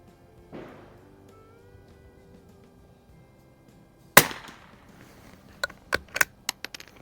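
Sharp reports from a 1949 Mossberg 146B T-bolt .22 LR rifle fired at a target 50 yards out: one loud crack, then a rapid cluster of several quick, fainter pops, with no talking.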